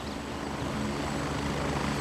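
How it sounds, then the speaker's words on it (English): Helicopter in the military shooter Gray Zone Warfare, a steady low rotor thump and engine drone held at even loudness throughout, with no talk over it. "I call that little helicopter."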